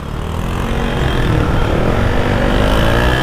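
A motorcycle engine drones loud and steady while riding, a dense continuous rumble with wind rush that holds at the same level from start to finish, without talk.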